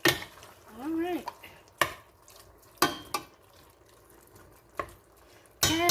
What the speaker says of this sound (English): Okay, so while the meat is cooking